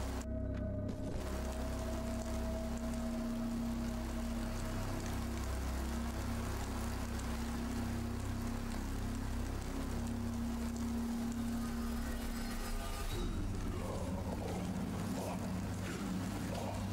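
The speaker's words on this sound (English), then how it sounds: "Apparently the sound of rain overpowers the sound of everything else in this game." Heavy rain pours in the medieval combat game Mount & Blade: Warband, a constant dense hiss over a low steady hum, continuing without a break for the whole stretch while another murmuring sound shifts near the end.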